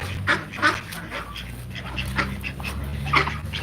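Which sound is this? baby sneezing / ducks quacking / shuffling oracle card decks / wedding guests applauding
ducks quacking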